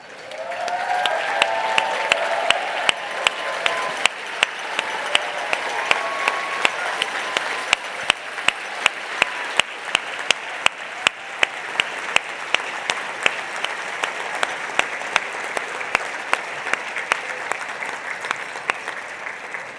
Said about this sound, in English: Could I ask our Hall of Famers to please stand and allow us to honor you with a round of applause?